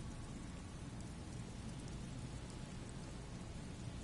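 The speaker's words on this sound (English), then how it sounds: "The reeds by the abandoned campsite hiss and shake in the lazily falling rain." Steady rain falls on reeds beside an abandoned campsite in a video game, a continuous even hiss with no talking.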